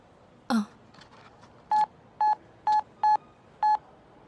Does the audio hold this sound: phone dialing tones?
yes